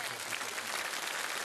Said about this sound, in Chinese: 我们掌声恭送